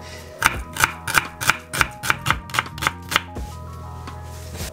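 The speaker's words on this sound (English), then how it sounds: "this little onion from the garden, I'm just gonna dice it up really quickly" A small garden onion being diced on a cutting board, about a dozen crisp knife chops in a quick, fairly even rhythm, close and distinct, followed by a quieter tail.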